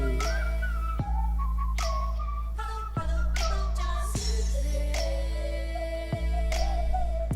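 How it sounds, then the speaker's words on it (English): Melodic whistles glide over a song with a steady bass and sharp snapping beats roughly once a second, loud and continuous. "Oh, those whistles."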